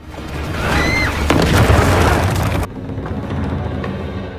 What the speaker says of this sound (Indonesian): Ternyata gelombang radio tersebut berasal dari gigi Graham yang kemudian meledak.